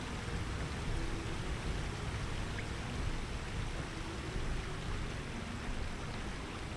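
Steady broadband rush of a waterfall in the online game Lord of the Rings Online, a continuous even roar with no talk over it.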